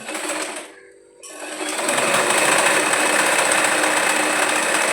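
An electric sewing machine stitches the ankle pieces of a cigarette pant. It runs close and loud as a steady, fast mechanical whir, with a brief pause early on before it starts up again.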